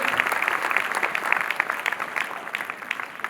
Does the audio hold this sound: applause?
yes